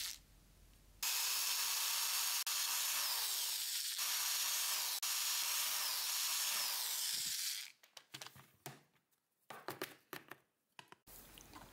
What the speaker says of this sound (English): I marked the parts so I could start drilling holes and tapping them into the plastic